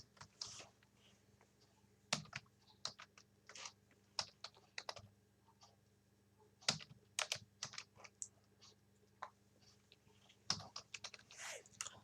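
Typing on a computer keyboard while filling in a resume in Microsoft Word, quiet close key clicks in uneven bursts with short pauses, a few sharper taps standing out, no talk.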